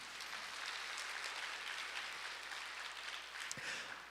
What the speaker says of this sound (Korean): 동산의 가족이 되신 분들께 마음을 담아 박수로 환영하겠습니다.